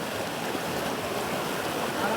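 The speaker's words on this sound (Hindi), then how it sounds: "यहाँ नदी की धारा बहुत बहुत बहुत बहुत तेज है।" A fast-flowing river current in Palin, Arunachal, rushes in a steady, even wash of water noise, moderately distant and unbroken.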